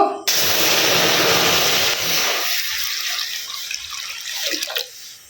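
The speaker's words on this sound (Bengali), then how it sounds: "কড়ার মধ্যে একটু জল দিয়ে দিব" Water poured steadily into a karai, a metal cooking pan, in a home kitchen, a loud continuous splashing rush that cuts off after about two seconds, followed by softer drips and trickles.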